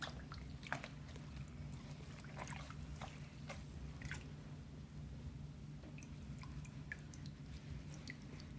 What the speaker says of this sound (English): The sponge is dirty, so you want to rinse that out again.